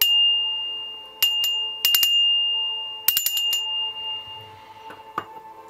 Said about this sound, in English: I'm going to ring the bell 3 times.